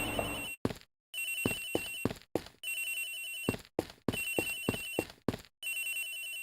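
A cell phone rings in the Ace Attorney Investigations video game, an electronic ringtone repeating in short bursts with brief gaps between them, played alone with no talking.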